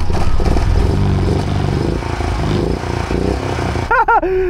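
Small BMW three-wheeler engine revs in loud, clattering bursts that rise and fall close by, ending with a brief whiny squeal, with no talking over it.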